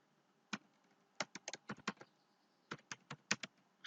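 Keystrokes on a computer keyboard, sharp separate taps arriving in quick irregular bursts with short pauses between them, close and fairly quiet against a faint background hum.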